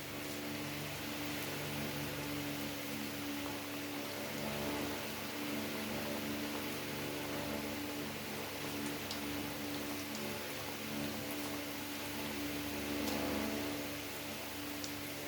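Chicken pieces frying in oil over medium heat for a quick spicy chicken dish, giving a steady, dense crackling sizzle that holds evenly throughout with no talking.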